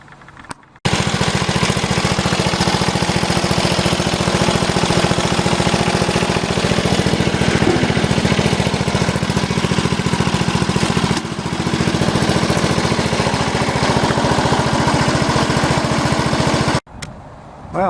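A Rover Rancher ride-on mower's small engine runs on a test drive with a repaired, greased gearbox, a loud, close, steady chugging drone that starts abruptly, dips briefly midway, and cuts off near the end.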